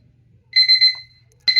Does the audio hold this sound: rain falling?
no